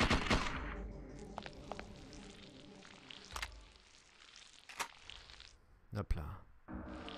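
An MP5 submachine gun in Parasite Eve 2 fires in short sharp bursts, scattered across a quiet background with brief gaps between the shots.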